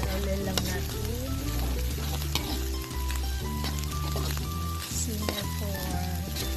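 Bopis, chopped pork lung cooked with chili in a pan, sizzles loudly as it is stirred, with a constant frying hiss and scattered clinks, while music or a voice carries on underneath.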